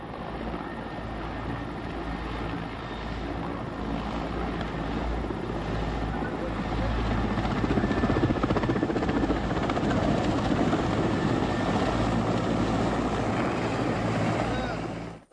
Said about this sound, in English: Из-за этого вертолет не может подняться.